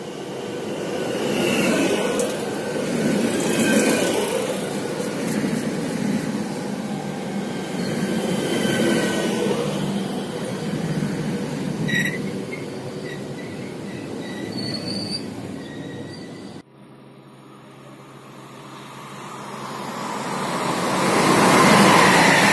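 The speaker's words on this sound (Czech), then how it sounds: "přijíždí k prvnímu nástupišti na první kolej" At Choceň station, a Czech Railways train arrives at the first platform, its wheels squealing loudly and steadily against the rails for most of the stretch before the sound drops off abruptly, then a rumble builds again.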